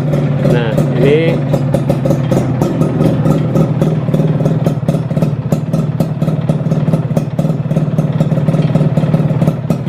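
Old car engine running at idle up close, steady clattering mechanical hum with a faint knocking noise reported at the front, middle and clutch area, people talking briefly over it.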